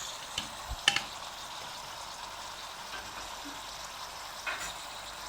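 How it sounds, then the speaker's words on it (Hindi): Beef with salt and spices frying in a pot for Peshawari namkeen gosht, giving a steady low sizzle with a few brief stirring clinks and scrapes near the start and again toward the end. "भूनेंगे जब तक इसका कम्प्लीटली कलर जो है वो चेंज नहीं हो जाता"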